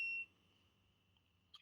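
A parking meter gives a single electronic beep, loud and steady at first, then its tone fades away to a faint ring with light handling noise afterward.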